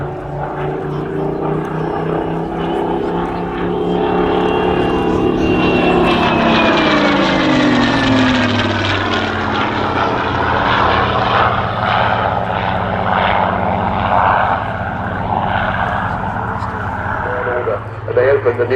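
Spitfire aircraft engine passing overhead at the RAF Cosford airshow, a steady loud propeller drone whose pitch bends downward as it goes by, with a commentator talking over it throughout.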